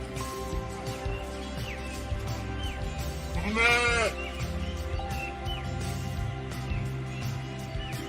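Sheep bleating on a countryside farm in a forest setting, one loud, wavering bleat standing out near the middle amid a steady background of livestock and ambient noise, with no talking.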